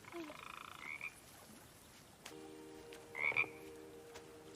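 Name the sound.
frog croaking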